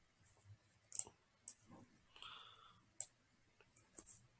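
Sharp mouse clicks while editing a Wix salon website, a handful of crisp isolated taps spread irregularly over a few seconds, close and fairly faint, with soft handling noise between them.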